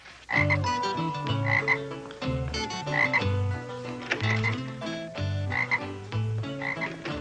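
Frog croaking in a TV sitcom scene, mixed with dense harmonic music in rhythmic repeated bursts, steady and fairly loud throughout.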